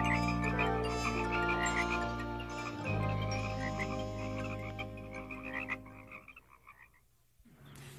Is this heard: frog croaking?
yes